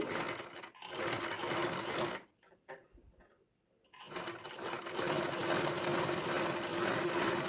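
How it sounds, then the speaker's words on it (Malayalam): A sewing machine stitching fabric slowly around a corner on a neckline, with steady whirring runs that stop for about two seconds midway before resuming, close and fairly loud, with no talking. "പതുക്കെ പതുക്കെ സ്റ്റിച്ച് ചെയ്തെടുത്താൽ മതി"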